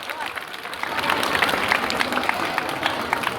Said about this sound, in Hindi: जोरदार ताली, ताली लो, आपका बहुत कमजोर पड़ रहा है,